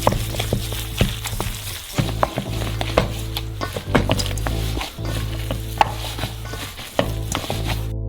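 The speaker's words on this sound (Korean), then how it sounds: "손으로 잘 섞어주세요." Raw ground meat seasoned with fresh chili pepper and salt being kneaded and squished by hand, wet slapping and squelching pulses close up with irregular rhythm and a few small bumps against a bowl, no speech.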